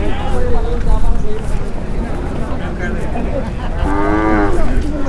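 At the Krosur weekly cattle market, a cow or bull gives a loud, drawn-out moo near the end, over a steady hubbub of people talking and general market noise.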